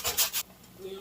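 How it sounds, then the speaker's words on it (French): Whole nutmeg scraped against a grater for cooking, three short raspy strokes close by, followed by quiet. "et ensuite je viens râper la muscade"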